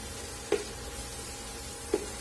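Tomatoes and masala sautéing in ghee for a cashew curry, a steady quiet sizzle with two sharp taps of a spoon against the pan.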